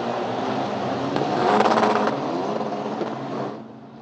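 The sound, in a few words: Formula Master single-seater race car with Tatus chassis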